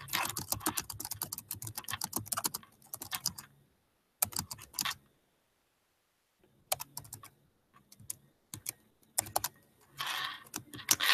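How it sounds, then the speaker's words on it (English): Bursts of rapid keystrokes on a computer keyboard as a question is typed, with pauses of silence between the runs of clicking, close and fairly quiet. "you can just type in your question"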